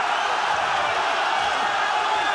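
A kickboxing crowd at a GLORY event sends up a constant roar of cheering and shouting, loud and unbroken throughout.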